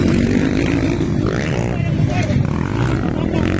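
Racing motorcycle in a pro open class race, its engine whining and buzzing as it passes, with an announcer talking loudly over the noise.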